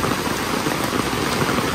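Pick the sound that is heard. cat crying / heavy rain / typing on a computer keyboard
heavy rain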